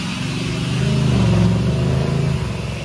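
A car engine revs loudly at a nighttime street car meet, a single sustained rise and fall of throaty exhaust roar lasting a few seconds, close by.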